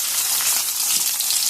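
Sliced onions hitting hot oil with cumin seeds for a carrot fry, a steady, close hiss of frying that stays even and fairly loud throughout with no voices over it.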